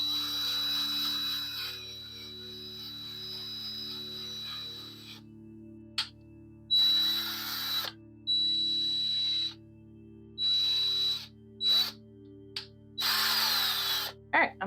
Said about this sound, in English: I'm going to finish drilling all these holes now that I know this is the method